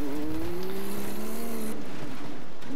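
A Jeep driving in a video game, its engine drone sliding slightly in pitch as it moves, with a tire-like hiss, loud and steady for a few seconds with no talk.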